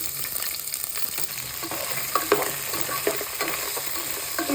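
Chopped onions frying in hot oil for paneer cashew curry, a dense steady sizzle with repeated spatula scrapes and stirring clicks, close and fairly loud, no talk.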